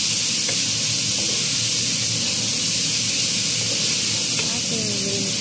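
Minced beef sizzling loudly in a hot pan, a dense continuous hiss with occasional scrapes of stirring, close and steady throughout.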